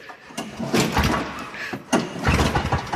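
A customer's snowblower with a recoil pull start is yanked twice, each rapid rasping pull followed by the small engine sputtering and catching, loud and close.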